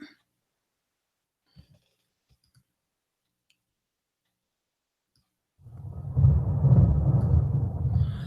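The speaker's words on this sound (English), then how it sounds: "So we had to get a little lightning in there." A thunder and lightning sound effect played through a live-streaming app: mostly silence with a few faint clicks, then a loud, low rumble of thunder that swells and holds to the end.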